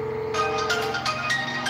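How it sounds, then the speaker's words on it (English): A phone rings with an incoming call, a repeating electronic ringtone of bright pulsed tones at a moderate level over a low background hum. "I think we have a phone call."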